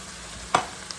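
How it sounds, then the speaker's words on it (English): Hamburger meat frying in a pan makes a soft, steady sizzle, with one brief clatter partway through. No voices. "finish cooking that down with the hamburger"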